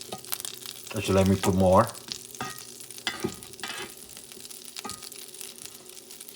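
Butter sizzles in a pan, heated to just above medium, while hoe cakes are made from an original 1700s recipe. A soft, crackling fry runs under a brief spoken comment, along with a few clinks and scrapes.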